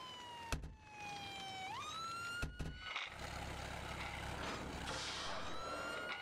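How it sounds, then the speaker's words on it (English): Police-style emergency siren in Emergency 4, West Lampeter Township mod: a loud wailing tone sweeps upward, then shifts into a dense, noisy blare with sharp bursts and a rumbling vehicle underneath, close and continuous. "I do love the siren though."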